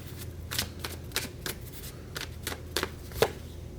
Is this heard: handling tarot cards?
yes